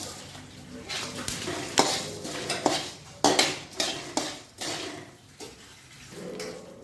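Dried red chillies being stirred in a nearly dry pan while roasted for homemade North Karnataka red chilli powder, with repeated scraping clinks of a spoon against metal and a faint sizzle underneath, close by with no talk.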